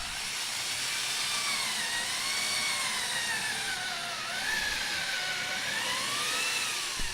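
A power drill boring holes into a homemade ITG2 dance pad replica gives a steady, loud high-pitched whine with slight pitch wobble that runs continuously, with no talking.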